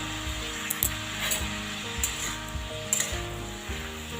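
Spinach with chopped tomato, cooked with mustard, sizzles loudly in a pan as it is stirred, a continuous close hiss punctuated by a few sharp clinks and scrapes of the utensil, no speech.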